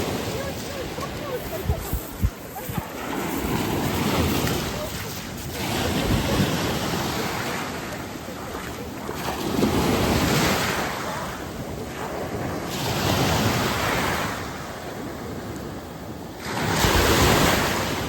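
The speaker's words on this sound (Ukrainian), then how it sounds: "Море потроху заспокоювалось" Sea waves roll and break on an Italian coast on a rainy day, loud surges of surf rising and falling every few seconds, with strong wind buffeting the microphone throughout.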